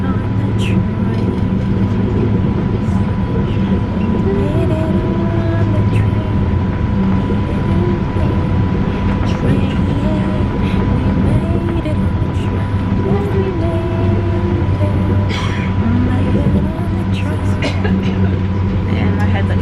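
Passenger train interior in Italy, a steady loud rumble and hum of the carriage in motion, with faint squeaks and people talking over it.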